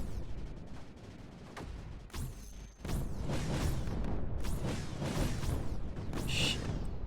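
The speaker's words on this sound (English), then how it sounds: "The sound of explosions is a good thing." Explosions in the Creeper World video game: a dense, continuous barrage of loud booming blasts with sharp whooshing sweeps between them, building into overlapping bursts.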